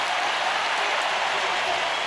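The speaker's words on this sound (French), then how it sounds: "toute la tribune se lève là devant nous pour faire une salve d'applaudissements" A stadium crowd at a Diamond League meet in Zurich gives a hurdler in the men's 400m hurdles a dense, continuous roar of applause, loud and even throughout.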